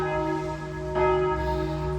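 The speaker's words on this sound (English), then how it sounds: "I've been woken up by church bells." Church bells ring out across a town, a sustained tonal peal with a fresh strike midway, heard at moderate distance with no talk.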